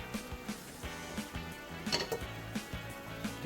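Pork ribs stir-fried with chili and ginger in a pan, with utensils clinking and scraping against the metal in a steady stirring rhythm, close and fairly quiet, a faint sizzle underneath.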